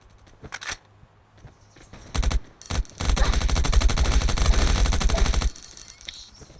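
Rapid automatic gunfire in the survival shooter game Last Island of Survival, a few scattered shots first, then a dense sustained burst of rattling fire that stops abruptly, loud and close with no talk.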